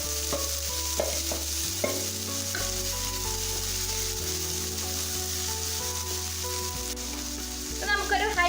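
Mixed shredded cabbage dropped into a hot pan of fried chillies for a Kerala sadya-style cabbage thoran, then stirred over high flame; steady sizzling with scraping stirs throughout, a brief rattle near the end, no talking.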